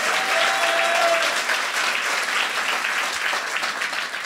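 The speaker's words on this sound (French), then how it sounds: "Applaudissez-les encore une fois." A comedy club audience in Liège applauds steadily and loudly for several seconds, a dense wash of clapping from the whole room that fades slightly near the end.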